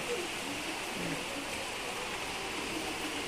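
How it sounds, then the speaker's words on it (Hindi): Heavy monsoon rain pours down outdoors near a house in a steady, dense hiss without pause, moderately loud and even throughout. "ये देखो झम बारिश हो रही है"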